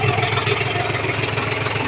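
A tractor engine idles steadily with a continuous low rumble, close and fairly loud, with no talking over it.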